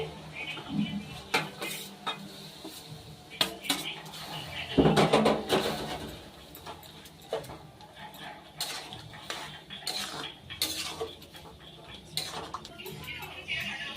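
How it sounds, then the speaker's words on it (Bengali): A spoon stirs papaya pieces into sugar syrup in a pan, giving irregular metallic clanks and scrapes against the pan, with a cluster of busier knocks midway. "পেঁপে দিয়ে কিন্তু ভালোভাবে নেড়ে নিয়েছি।"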